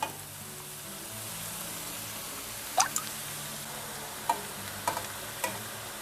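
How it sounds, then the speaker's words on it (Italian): Cultivated mushrooms and porcini stems cooking in a pot for mushroom soup, a faint quiet sizzle with a few sharp clinks and taps near the end. "Andiamo ad aggiungere i funghi, quelli coltivati e i gambi dei porcini."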